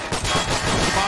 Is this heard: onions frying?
no